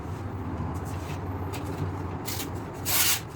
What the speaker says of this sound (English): I'm gonna give this another minute on the stone